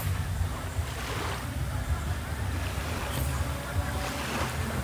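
Calm sea waves at Masao Beach wash gently under steady wind rumble, a constant broad surf hiss with low buffeting and no distinct breaking crashes.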